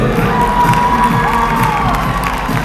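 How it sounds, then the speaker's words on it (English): A school assembly crowd of children cheers and shouts loudly for a performer, a dense, continuous roar of young voices that stays strong and slightly fades toward the end. "make some noise for Abram"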